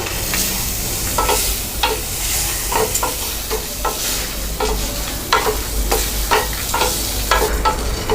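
Lentils and coconut roast in a pan over a medium flame for a lentil-onion chutney, with a steady sizzle and regular scraping strokes of a spoon stirring throughout, heard close.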